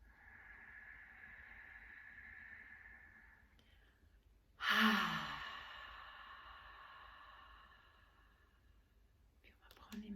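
A deep breath during a guided meditation: a soft, faint breathing tone is followed by a fuller, louder exhale that fades slowly. A quiet voice speaks near the end.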